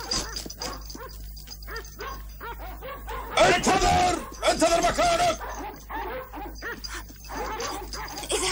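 Dogs bark and yip in pursuit, the barking growing louder in the middle, mixed with urgent shouting voices from an animated adventure series.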